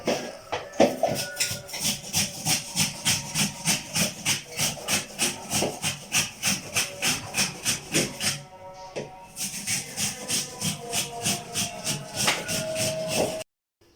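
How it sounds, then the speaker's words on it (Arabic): Onions are grated by hand on a grater in rapid, even rasping strokes, about two per second, close and clear; a short pause comes midway before the rhythmic scraping resumes, with no speech. "واجيب المبشرة وابشرهم كده"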